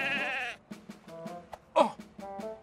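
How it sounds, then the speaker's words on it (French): Cartoon sheep in a flock bleat in a quick series of short, wavering calls, one long bleat followed by several brief rhythmic ones and a louder cry, close and clear with no talk. "On a rassemblé le troupeau de moutons."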